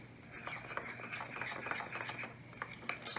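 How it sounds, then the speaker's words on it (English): A spoon stirs powdered sugar glaze for coffee eclairs in a bowl, giving soft, quick, irregular scraping and clicking strokes close by with no talk. "Just keep stirring until you have a beautiful smooth glaze."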